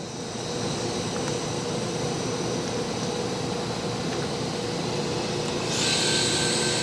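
A Doosan Puma 2600SY multi-axis CNC turning center, new in 2011, runs its live tool at 3000 RPM, giving a steady, fairly quiet whirring hum with a high whine that swells slightly near the end.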